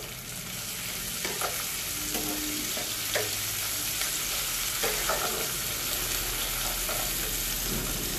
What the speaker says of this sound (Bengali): ক্যাপসিকাম দিয়ে ভালো করে আর একটু নাড়বো।